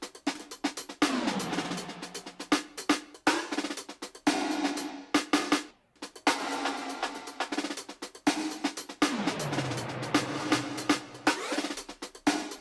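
Drum loop hits sent through a fully wet Comet reverb plugin, producing washed-out, smeared percussive bursts with long tails in an irregular rhythm, moderately quiet and without talk.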